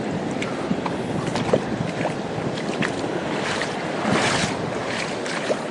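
Sea waves slosh and splash around a small fishing boat off Casiguran, Aurora in the Philippines, a steady close wash of water with wind, swelling louder near the end.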